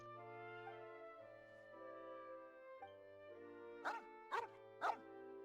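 Dog barks from the video game Genshin Impact, three sharp close barks near the end over steady game music, with softer vocal sounds earlier.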